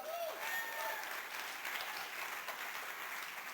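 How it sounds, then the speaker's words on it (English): A charity fundraising event audience applauding steadily, a dense wash of clapping with a few faint voices mixed in, moderately distant and continuous throughout. "that's another round of applause"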